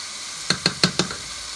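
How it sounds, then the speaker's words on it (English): Four quick, evenly spaced bursts of sizzling from onions and garlic caramelizing in a pan, short and crisp over a quiet background hiss. "Now what we're doing now is caramelizing the onions and garlic"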